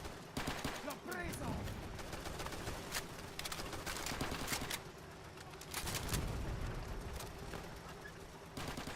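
Rapid bursts of rifle and machine-gun fire crackle from the Easy Red 2 game on a custom Southern France map, volleys overlapping near and far with short lulls between them.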